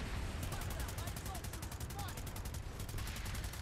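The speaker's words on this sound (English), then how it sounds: "Where am I getting shot from?" Rapid gunfire crackles in the PS4 shooter Planetside 2, steady bursts of automatic shots mixed with game effects, continuous and fairly close.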